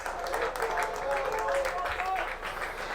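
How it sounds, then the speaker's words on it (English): Crowd applause at a varsity boys soccer game between Canton Bulldogs and North Attleborough, a faint spread of distant clapping under an announcer's voice. "we'll get an applause from the crowd with that shot on goal"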